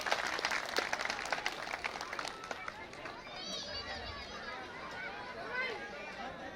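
An audience at a community gathering in Gandhidham gives loud applause that starts strong, then thins and blends into crowd chatter and murmuring voices as the clapping fades.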